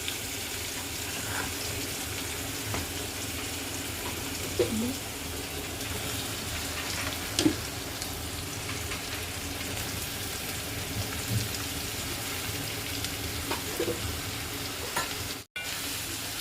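Ridge gourd pieces are sautéed in a pan, giving a loud, steady frying hiss with occasional stirring scrapes, close up and continuous, cut off abruptly near the end.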